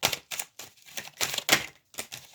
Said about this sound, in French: Je vais retirer 2 petites dernières cartes pour la conclusion de la semaine.